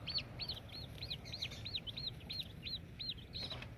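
Young chickens chirping inside their coop during cold, rainy Texas weather: a steady series of about a dozen evenly spaced, high thin peeps, fairly faint over a low background rumble.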